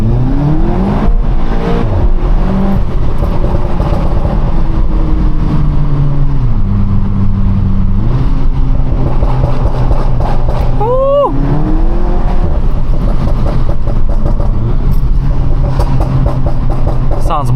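A Cupra hatchback thrashed through Birmingham streets, its engine loudly revving and climbing through gears with sharp pitch rises and drops, heard from inside the car alongside occasional talk.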